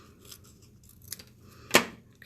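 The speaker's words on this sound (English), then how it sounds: "we're going to cut this in half lengthwise." Gold foil label material being cut in half lengthwise with scissors, a few faint snips and then one sharp louder cut, close and quiet without talk.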